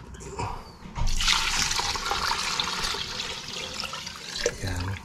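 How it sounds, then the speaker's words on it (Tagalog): Water gushing steadily into a cooking pot for several seconds, a strong continuous pour that tapers near the end, with faint clatter. "Lagyan na natin ng tubig."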